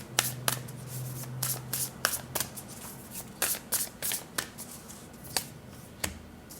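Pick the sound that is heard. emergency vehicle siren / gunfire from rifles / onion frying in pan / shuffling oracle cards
shuffling oracle cards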